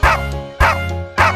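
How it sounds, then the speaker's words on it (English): A dog in the children's nursery rhyme 'Bingo' about a farmer's dog barks three times, evenly spaced about half a second apart, loud and close over a steady musical backing. "There was a farmer, had a dog, and Bingo was his name"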